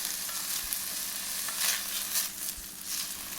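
Jasmine rice, 2.5 cups, sautéing in a hot pan, giving a steady bright sizzle with occasional stirring scrapes and small crackles, close and continuous with no talk.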